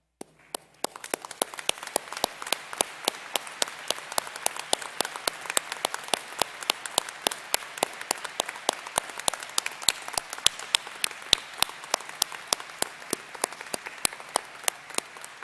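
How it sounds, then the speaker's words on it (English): Sustained audience applause at a college commencement ceremony, honoring military veterans as they stand; dense steady clapping fills the hall throughout, fairly even in intensity without speech. "so we can all give you a round of applause"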